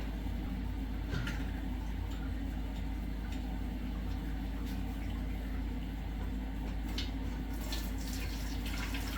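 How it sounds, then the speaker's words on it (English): Whey poured from a vessel into a pot while making chevre goat cheese, a soft, steady trickling and splashing of liquid that runs continuously at low volume without a break. "I'm going to pour the whey into this pot."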